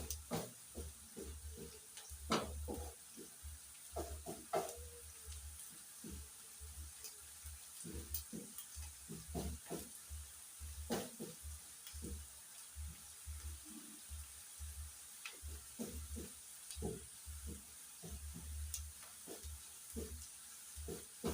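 Onions and chicken gizzards sizzle steadily in a frying pan, a soft constant hiss under repeated clinks and scrapes of stirring, close and fairly quiet.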